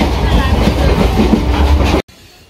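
A Sealdah-bound Hasnabad local passenger train runs with a loud, close rumble and rhythmic clatter of wheels over rail joints, then cuts off abruptly near the end.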